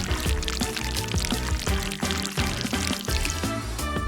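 Rinsing water pours steadily in the Sprunki video game, a continuous splashing stream layered over busy, tonal background sound.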